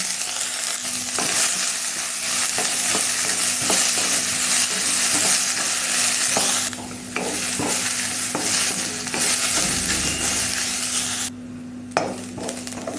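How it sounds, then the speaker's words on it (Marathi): Steady crackling sizzle of onions frying in hot oil, continuous and close, with occasional stirring scrapes and no talking. "कांदा टाकून घेऊ थोडस तेल टाकून घ्यायचं"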